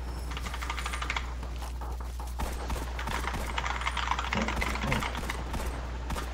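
Rapid clicking keystrokes from a mechanical computer keyboard, coming through a voice-chat mic during Destiny 2 play, form a continuous, fairly quiet clatter with uneven bursts over a steady low hum, with faint talk mixed in.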